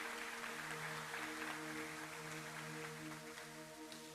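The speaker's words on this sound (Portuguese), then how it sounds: "Pode aplaudir." Church congregation applauding during a sermon, a soft, steady wash of clapping held across the whole stretch with sustained musical tones running underneath.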